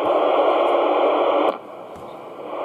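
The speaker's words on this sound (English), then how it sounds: "if we switch the radio to FM, that's when you get a higher level of static" Steady broadband radio static hisses loudly, then drops to a quieter, duller hiss about halfway through, with no voices.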